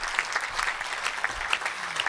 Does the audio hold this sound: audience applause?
yes